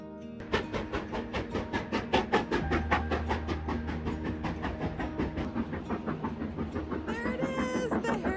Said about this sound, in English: There it is, the Harry Potter train.